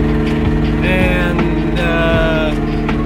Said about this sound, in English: Seems to be idling now.